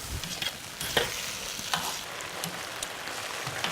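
Chili sauce with fresh green and red chilies being mixed in a hot pan, a moderate sizzle with irregular scraping and clacking of a utensil as it is stirred around.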